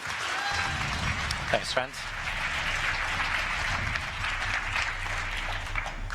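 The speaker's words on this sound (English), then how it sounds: "give a round of applause" Applause from an audience at a startup pitch competition in Finland fills the clip at a steady level while someone speaks briefly over the clapping.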